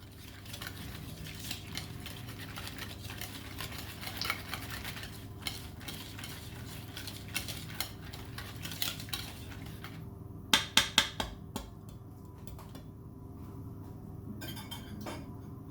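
Batter for raisin rock cakes is stirred in a mixing bowl, giving a steady soft scraping and churning with a quick cluster of metallic clinks against the bowl near the end.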